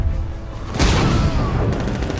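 Gunfire in the Batman Arkham Knight video game, a faint rumble and then a loud burst of rapid shots with a sharp crack near the end.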